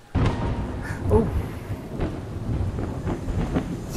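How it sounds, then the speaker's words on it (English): Rain and rolling thunder inside the VR game Found, with a steam train in the scene; a steady wash of rainfall with low rumbling swells throughout, fairly close and filling the space, no talk. "it's raining onto my orb things"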